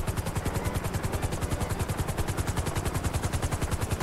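Loud, steady rotor-like engine drone from a large aircraft in GTA 5, pulsing rapidly and evenly throughout with no talk over it.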